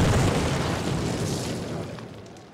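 An explosive detonation in the Call of Duty video game's campaign: one loud, close, broadband boom that rumbles and slowly fades away over a couple of seconds, with no voices.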